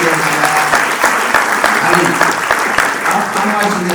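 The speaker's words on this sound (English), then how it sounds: "Another round of applause for taking the initiative on that." A round of applause from the audience at a C2 Financial company gathering, full and loud clapping throughout with faint voices underneath.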